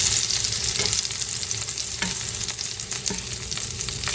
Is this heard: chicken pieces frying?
yes